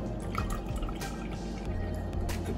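Buttermilk pours through a fine mesh strainer into a measuring cup after homemade butter is separated, giving a steady close trickle with small drips and splashes running throughout, no talk over it.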